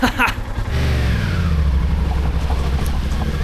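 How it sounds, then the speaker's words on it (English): A Royal Enfield Himalayan motorcycle engine runs steadily and loudly close by, a continuous low throb that rises briefly as if revving, with a short voice at the very start. "But the engine is on."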